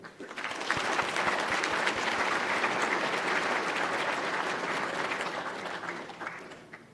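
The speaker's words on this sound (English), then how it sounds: "another round of applause for our inductees, NAE class of 2024" Sustained applause from a large audience at the 2024 NAE awards ceremony, honoring the NAE class of 2024 inductees, rising quickly and holding dense and steady for several seconds before tapering off.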